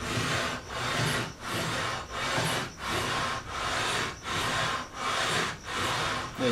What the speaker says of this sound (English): I'm going to start off with my 220 grit, and I'm just going to start making passes up the fretboard.